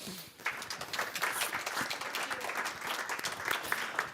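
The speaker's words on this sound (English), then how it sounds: "I think we can clap them" An audience at a deep tech evening event applauds the panelists after a discussion, with continuous, fairly even clapping that fills the hall and holds steady to the end.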